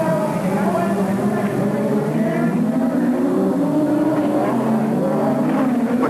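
Rallycross race cars from 1986 at Mondello Park roar continuously, engines droning and shifting pitch as they race around the circuit, with a commentator talking over them.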